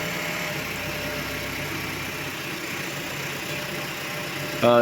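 A car engine runs rough with its second cylinder misfiring, a steady close idle drone with a low uneven throb, ending with a short louder bump.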